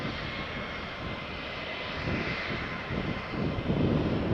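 Airplane engines roar at Faro Airport, a loud broadband jet rumble and hiss that holds steady and swells toward the end, heard up close with no talk.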